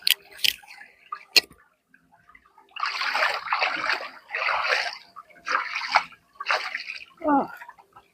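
Hands splash and slosh in the water of a rice-field irrigation channel, a few sharp ticks at first, then a run of six bursty scooping splashes close to the mic, ending with a brief watery trickle.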